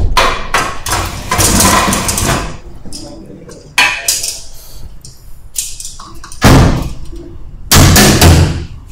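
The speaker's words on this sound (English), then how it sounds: "You need a hammer to close the window here." Repeated hammer blows on a window frame being forced shut, sharp loud bangs in irregular bursts with short pauses, some knocks ringing against metal or glass, with a voice talking faintly between strikes.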